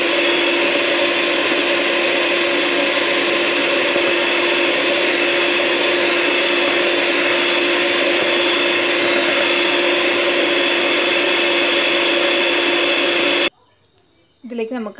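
Electric hand mixer beating carrot and date cake batter at high speed, a loud continuous steady whir with a strong hum that runs unbroken for about thirteen seconds before cutting off abruptly.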